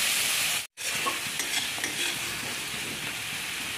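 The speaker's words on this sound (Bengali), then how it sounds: "একটু গোটা জিরে, শুকনো লঙ্কা, তেজপাতা ফোড়ন দিলাম, পেঁয়াজ ভাজা দিয়ে দিলাম।" Whole cumin, dry chilli and bay leaf spluttering in hot oil with fried onions, a loud close sizzle with crackling pops that breaks off for an instant and then carries on steadily, with no talking.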